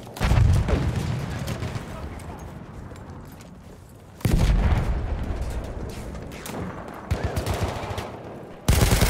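Heavy blasts and rolling gunfire in a World War I shooter game, with sudden loud booms near 4 s and near 8.7 s standing out over a continuous din of distant battle.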